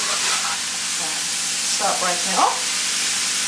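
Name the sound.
stir fry with peppers and mushrooms sizzling in a wok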